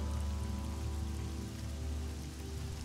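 Heavy rain ambience for a tabletop role-playing scene in a dark fantasy setting, a dense steady wash of falling rain with a low rumbling hum underneath, constant and even throughout with no voices.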